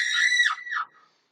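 A voice imitates screaming in aggravation, a single close, loud, strained shriek lasting about a second that wavers and trails off, with no other sound around it.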